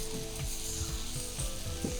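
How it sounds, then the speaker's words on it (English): Curry rice fries in a pot with a dense, steady sizzle, while soft scraping stir strokes repeat irregularly underneath, close and quiet throughout. "So you're gonna mix it up without adding any more liquid"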